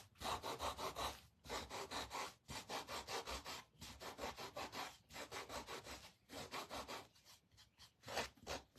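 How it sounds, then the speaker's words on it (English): Rhythmic rasping strokes of sandpaper worked hard along the edge of a wooden sunflower craft piece, roughing it up; close and steady, in bursts of about a second each separated by brief pauses, with no talking. "So I'm also sanding this edge really, really a lot more than, because I really want to rough it up."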